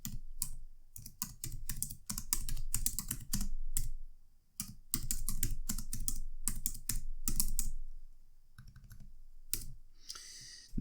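Steady keyboard typing on a computer keyboard, entering an answer during a TryHackMe IDOR cybersecurity exercise, with rapid close key clicks in bursts and short pauses, no talking.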